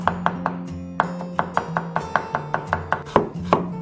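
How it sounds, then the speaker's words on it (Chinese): A kitchen knife chops scallion and ginger on a cutting board in a steady, fast rhythm of about a dozen crisp, close knocks, with a soft tonal hum underneath and no talking. "切一些葱姜末备用"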